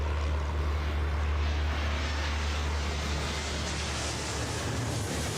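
An airliner takes off in the airport video game Airport Madness World Edition, a steady broad roar of jet engine noise with a deep rumble, constant and moderately loud throughout.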